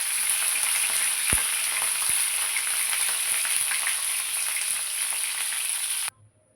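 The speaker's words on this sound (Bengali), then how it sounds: "পটলগুলো লাল লাল করে পুরো ভাজতে হবে" Pointed gourd (potol) pieces frying in hot oil give a steady, close sizzle with scattered pops and crackles throughout, cutting off abruptly near the end.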